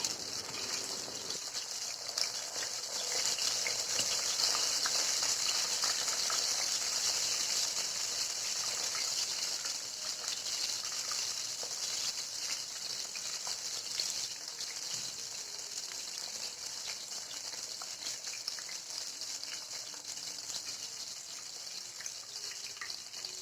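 Chicken frying in a pan gives a steady, even sizzle that holds unchanged for over twenty seconds, alone without talk.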